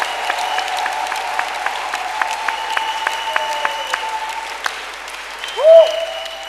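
Church congregation at a Friday evening service in Bunia, Ituri, clapping steadily in praise of the Lord, a sustained wash of applause with a brief voice near the end.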